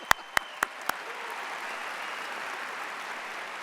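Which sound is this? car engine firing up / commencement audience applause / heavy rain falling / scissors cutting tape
commencement audience applause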